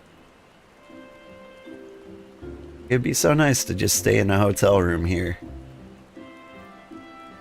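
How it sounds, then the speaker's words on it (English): Steady rain falls in the Final Fantasy 14 game world, a soft continuous hiss that runs throughout while a person talks over the middle of it. "Nice and rainy."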